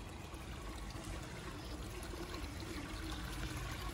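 Spring water trickling steadily inside a cave near Sigulda, Latvia, a continuous broad watery wash running alone at an even level for the whole stretch, with no voices.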